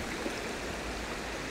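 A river flowing in snowy grayling country, a steady broad wash of moving water, even and continuous with no voices.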